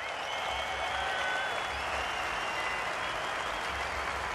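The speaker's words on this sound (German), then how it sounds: "Ihr Applaus!" An audience applauding Mick Schumacher at a 2019 Formula 1 event in Germany where he drove Michael Schumacher's F2004 Ferrari, a dense, continuous wash of clapping from a large crowd that holds steady for several seconds, with faint cheers mixed in.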